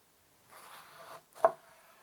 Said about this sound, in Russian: Я его сперва порежу пополам